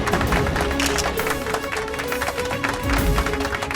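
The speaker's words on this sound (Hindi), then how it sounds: "तो जोरदार तालियों से स्वागत कीजिए नेहा शर्मा जी का।" Loud, dense audience applause from a crowd welcoming a contestant named Neha Sharma in a televised Hindi drama show, thick steady clapping mixed with background music and crowd noise throughout.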